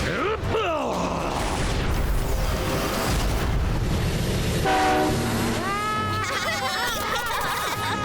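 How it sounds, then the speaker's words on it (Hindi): A cartoon train rumbles along with clattering wheels, sounding its horn in several sweeping blasts, loud and near, with background music and effects layered over the running noise. "मुझे भी समझ में नहीं आ रहा कि ट्रेन कहाँ जा रही है"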